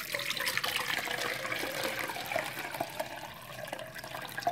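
Kefir liquid poured through a strainer to recover the grains, a steady faint trickle and splash of liquid running continuously for several seconds with small spattering drips.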